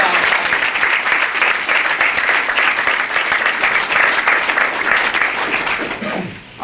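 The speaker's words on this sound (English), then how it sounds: "gotta clap it up" A crowd of supporters applauds loudly and steadily at a mayoral campaign announcement in Hartford, held at Capital Community College, with dense clapping and cheering voices mixed in before it fades at the end.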